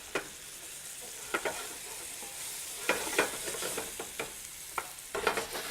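Soft shell crabs frying in a hot pan give a steady sizzle, with scattered louder pops and spatters standing out, close and alone without talk.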